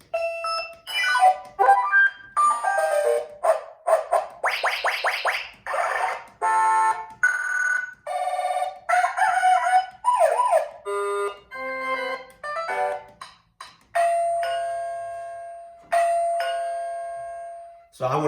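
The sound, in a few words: wireless receiver doorbell chime sounds, ding-dong tone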